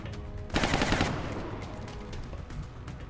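Suppressive gunfire in XCOM: Enemy Within with the Long War mod, a loud burst of rapid automatic fire that hits suddenly and rattles for about half a second before decaying into a lingering low rumble.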